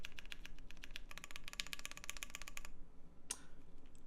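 Quick bursts of keystrokes on a Bakeneko mechanical keyboard with Durock L7 switches, close and soft, stopping after a few seconds with one last isolated click.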